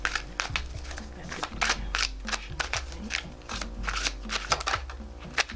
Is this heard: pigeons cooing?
no